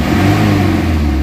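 A car engine revs hard after an engine treatment, a loud, steady, growling mid-pitched roar held close and alone for a brief moment.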